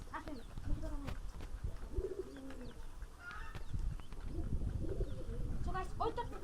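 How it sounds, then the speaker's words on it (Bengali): Pigeons coo in soft, throaty repeated phrases close by, with several rounds of cooing spread across the stretch while someone talks over them. "সো গাইস এখন আমরা দেখব কবুতরের ডাক।"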